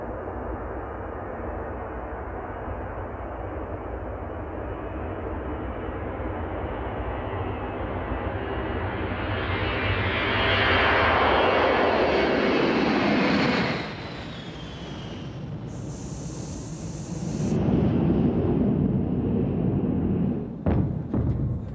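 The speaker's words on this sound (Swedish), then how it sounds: "Det är landningshjulen som går upp." A fixed-wing airliner in flight roars steadily for a long stretch, the engine noise swelling midway, then a brief dip and a whine as the landing gear retracts hydraulically, ending with a short mechanical clunk.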